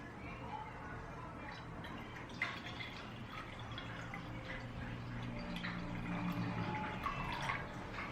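Lukewarm water pours into a bowl for soft German pretzel dough, a faint, continuous trickle and splash heard quietly in a kitchen.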